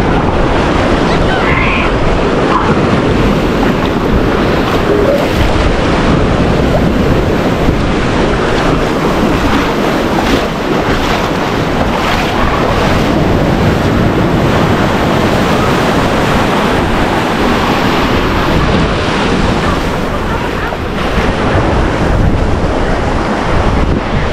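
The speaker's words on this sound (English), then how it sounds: "The wave currents are very, very, very strong, and there's a beach here too." Strong ocean waves surge against a rocky Hawaiian coastline, a loud, continuous roaring wash that goes on without a break, heavily buffeted by wind on the microphone.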